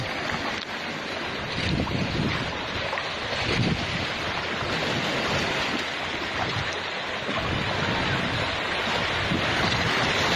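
Strong ocean waves break at Umbrella Rocks in Agno, Pangasinan, a continuous roaring wash of surf mixed with heavy wind buffeting the microphone, loud and steady throughout.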